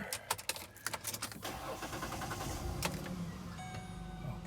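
A car engine starts after a few clicks and rattles, then settles into a steady low idle, heard fairly faint and close without talk.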